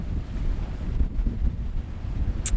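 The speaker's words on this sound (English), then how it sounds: "It's quite windy." Strong wind buffets the microphone with low rumbling gusts, along with the sound of water slapping nearby, aboard a sailboat near the Cape Cod Canal.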